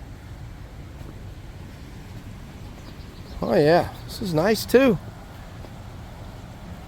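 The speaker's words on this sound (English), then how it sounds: "The nice water sounds" Steady flowing water rushes softly outside a hotel smoking area in downtown Gatlinburg, Tennessee, a constant background wash while a person speaks briefly over it.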